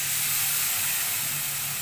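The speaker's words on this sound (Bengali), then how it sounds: "এবারে আমি জল দিয়ে দেব" Water hitting a pan of hot, fried chicken masala gives a loud, steady rush of steam and sizzling hiss, close and unbroken for the whole moment.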